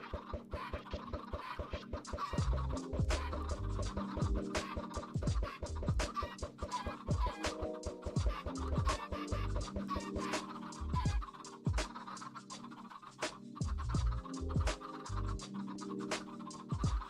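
A flock of chickens, including baby chicks, in the modded Minecraft pack All the Mods 9 clucks and scratches constantly, with dense overlapping calls and clicks and no talking.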